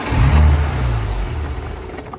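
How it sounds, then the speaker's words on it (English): A car cranking with its MAF sensor unplugged, a strong low engine rumble that surges at first then settles and fades without catching into a steady idle. "we just saw that the car tried to start up, but it wouldn't"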